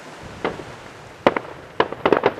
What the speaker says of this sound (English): Somebody's birthday party, I think all fireworks are going now.